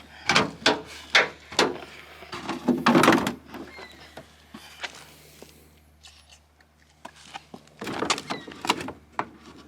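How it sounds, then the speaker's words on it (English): Several sharp thuds and rattles of a Suzuki GS400 car door, followed by quieter shuffling and handling, then another burst of knocks near the end. "Just slam the door."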